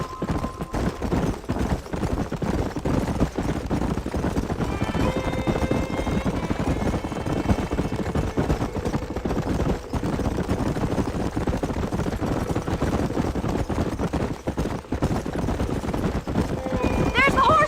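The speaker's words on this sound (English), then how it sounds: "There's the horses!" Horses gallop across open ground in the Western video game Red Dead Redemption, a steady clip-clop of hooves running under continuous game ambience and music, with a brief whinny and characters talking over it.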